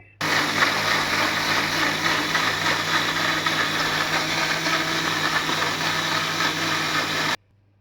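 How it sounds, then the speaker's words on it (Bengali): An electric kitchen blender whirs steadily and loudly, blending beetroot with chopped ginger and water into juice, running continuously for about seven seconds before stopping abruptly. "এরপর এই প্রত্যেকটি আইটেম একসাথে করে সাথে ২০০ ml পরিমাণ পানি দিয়ে আমি ব্লেন্ডারে ব্লেন্ড করে নেব"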